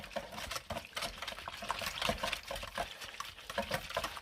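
Caster sugar being stirred by hand into a wet whisky bread pudding mixture in a bowl, a continuous squelchy, sloppy mixing with soft rhythmic sloshes, close up and alone.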